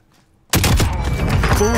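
Gunfire erupts in the video game Call of Duty: Modern Warfare after a quiet moment, a sudden loud, dense burst of rapid shots and impacts that continues at full volume to the end.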